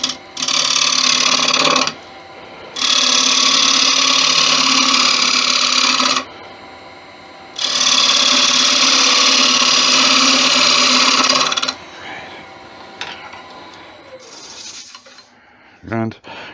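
A wood lathe turning a bowl while its rim is flattened: a loud, steady whirring hum in three long stretches broken by short pauses, then quieter handling sounds near the end.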